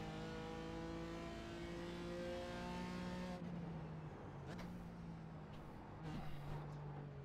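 A race car on track at Barber, heard from inside as a steady, droning engine note with strong harmonics that drops in pitch after a gear change and then rises and falls through shifts, loud and close, with no talk.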